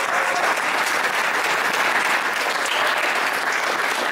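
Dense, steady audience applause at a children's graduation ceremony, honoring the teachers. Loud and continuous throughout, with no pauses.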